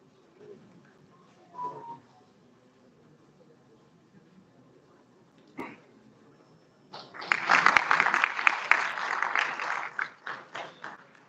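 Audience applause at an international conference on computational intelligence and communication technology bursts out after several quiet seconds, dense and fairly close, then thins into scattered claps.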